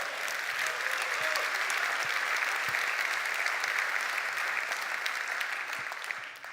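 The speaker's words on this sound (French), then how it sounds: "si vous voulez applaudir pour cette montée" An audience in a hall applauds steadily for several seconds, a dense, even clatter of many hands that holds at full strength before easing slightly at the end.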